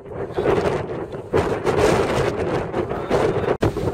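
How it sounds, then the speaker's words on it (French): Strong wind gusts buffeting a trekker's microphone on an open Norwegian mountain trail, a loud continuous roar rising and falling, with one brief dropout near the end. "si le vent souffle. Souffle très fort."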